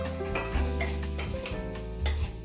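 Water splashes into a pan of tomato-and-spice masala for tadka dal, setting off a steady, close sizzle with stirring scrapes and a couple of louder bursts of hissing.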